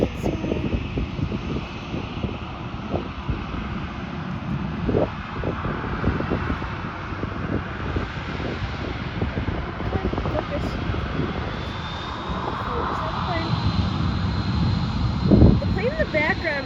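A Southwest airliner landing on a runway at Buffalo airport, a sustained jet roar with a rising whine near the end, moderately distant, mixed with wind buffeting and a voice talking over it.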